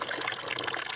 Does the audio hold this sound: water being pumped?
yes